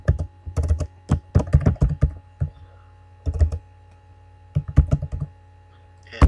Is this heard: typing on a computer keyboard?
yes